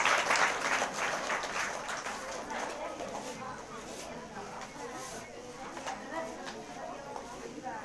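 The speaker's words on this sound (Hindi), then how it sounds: "बहन परमेश्वर को जोरदार तालियों का धन्यवाद देती है।" Applause from a congregation at a Sunday morning church service, brisk clapping strongest at the start and tapering off, with voices in the background.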